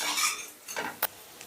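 Fried cashews are lifted from a pan with a metal utensil, giving a few soft scrapes and light clinks followed by one sharp metallic tap, all close and quiet.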